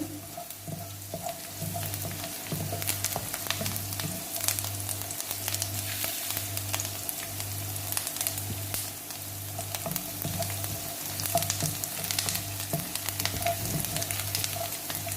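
Chopped vegetables for veg momo filling fry lightly in a pan, a continuous close sizzle punctuated by frequent spatula stirs and scrapes, with no talking.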